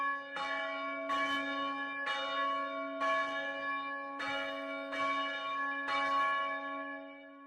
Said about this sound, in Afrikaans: En toe die klokke begin lui, het die tweede klok 'n halwe toon laer geklink.